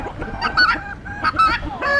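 Chickens in a large backyard flock give loud, repeated honking calls and clucks, several bursts close by over a low background murmur.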